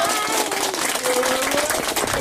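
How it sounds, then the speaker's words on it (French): Outdoor crowd at a small charity support march clapping loudly, a dense, lively burst of many hands with a few voices calling out among them. "Allez, applaudissez très fort, très fort."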